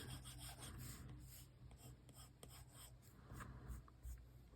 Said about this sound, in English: I'm just gonna erase a little bit of that